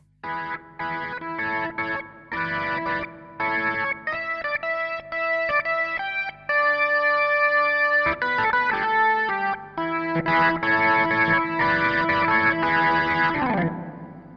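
Arturia KeyLab 88 MKII playing a vintage-style organ patch with distortion, sustained chords and stabs with a brief cleaner stretch partway through, loud and continuous with no talking.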